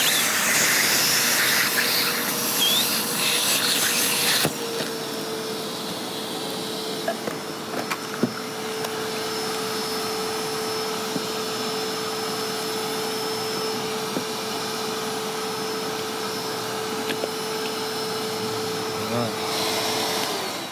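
A vacuum sealer draws air out of a food storage bag with a steady, loud motor hum and hiss that runs nearly twenty seconds, starting with a harsher burst before settling into an even drone.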